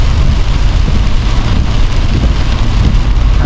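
Heavy rain pours in Fang in a steady, loud, dense roar of drops hitting surfaces, continuous and unbroken, with no voices.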